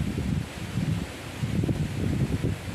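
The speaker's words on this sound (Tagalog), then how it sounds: "So, grabe ang hangin." Strong wind pushes through outdoor plants, producing a steady, fairly loud rustling with gusty low rumbles of wind buffeting the microphone throughout.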